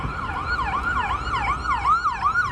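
An ambulance siren wails in a steady rising and falling cycle on a Manhattan street at night, loud and close, over a low hum of city traffic.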